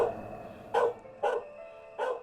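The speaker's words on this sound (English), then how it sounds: "he heard the dog start barking" A hunting dog barks three times in separate, sharp bursts with short pauses between them, fairly clear against a quiet background.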